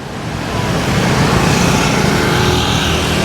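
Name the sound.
heavy scooter traffic in Hanoi's Old Quarter street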